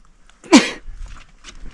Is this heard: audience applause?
no